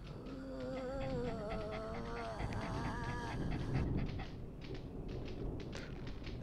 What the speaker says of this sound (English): Who let the dog in?